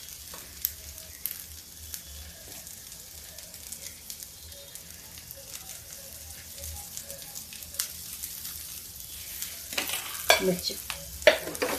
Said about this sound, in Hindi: इसको हम ऐसे ही थोड़ा फ्राई कर लेंगे पलट पलट के।